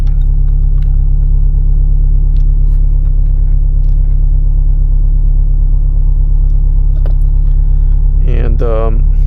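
Engine of a Subaru GC8 WRX clone holds a steady, loud low rumble throughout a drive, with a brief rising rev-like sweep near the end.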